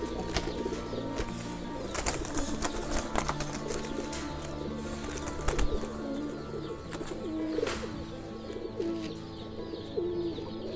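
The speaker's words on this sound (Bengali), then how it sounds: "এটা তো মনে হয় ফাইটার কবুতর" Fighter pigeons cooing in repeated low murmurs, with wing flaps and scattered chirps from a flock around them, moderately close against steady background noise.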